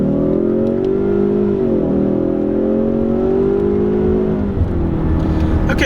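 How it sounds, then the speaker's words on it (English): A 2018 EcoBoost Mustang engine revs up steadily accelerating in first gear, a loud continuous drone rising in pitch with a brief dip as it pulls through the gear. "have the car in first gear, not going to push it too hard, but let's go ahead and get on the gas here."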